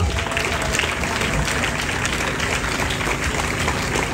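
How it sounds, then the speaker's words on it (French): A rally crowd at the Esplanade des Invalides protesting the Duplomb law claps steadily, a broad wash of applause heard from within the gathering, fairly even throughout with faint voices mixed in. "Merci beaucoup de les applaudir bien bien fort."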